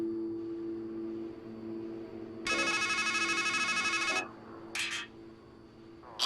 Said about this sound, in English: It's a payphone.